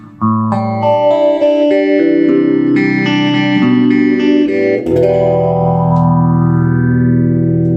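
Loud, bright electric guitar chords through a late-1970s or early-1980s Peavey Deuce VT amplifier with presence turned up, giving a crisp, cutting top end, with swirling effects, sustained with no talking.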